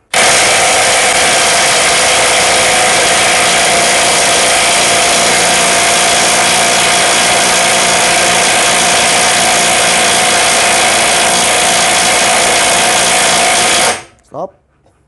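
A DeWalt DCF922M2 cordless impact wrench runs continuously and loudly for about fourteen seconds, then cuts off abruptly, followed by a couple of brief knocks.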